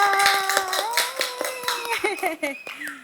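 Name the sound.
applause welcoming a podcast guest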